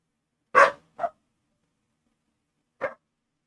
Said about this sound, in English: Why are you barking as much as you are?